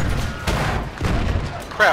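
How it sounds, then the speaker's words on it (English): In Battlefield 1, a dynamite charge goes off as a loud, close blast with rumbling debris and battle noise, and a man mutters a short word over it. "They dynamited us."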